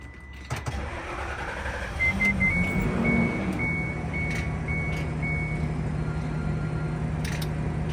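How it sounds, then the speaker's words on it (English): A school bus engine starts and idles steadily, with a series of short, regular electronic beeps sounding over the engine for a few seconds. "Turn on the bus."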